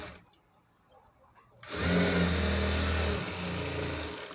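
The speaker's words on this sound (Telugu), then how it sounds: "దీనిపైన ఒక టాప్ స్టిచ్ వేసేయాలండి" A sewing machine runs a top stitch along a saree fabric made into an umbrella frock. After a quiet start it kicks in and holds a steady, close mechanical whir to the end.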